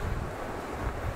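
Waves breaking on the shore of Lake Balkhash, a steady rushing surf mixed with wind buffeting the microphone, continuous and fairly close.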